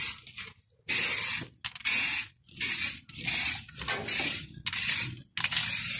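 BMW E65 730d kidney grilles being spray painted black, a run of loud close hissing bursts from a spray can, about seven in quick succession with short gaps between.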